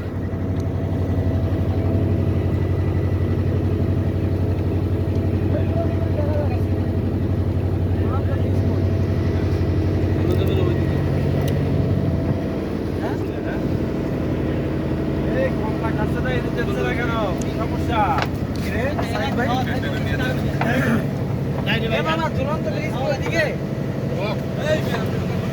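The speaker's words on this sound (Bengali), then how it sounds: "আমরা আছি নৌকাতে, ট্রলারে," A trawler boat's engine drones steadily on Kaptai Lake in Rangamati, a loud, close, unbroken low hum with water wash, while people talk over it.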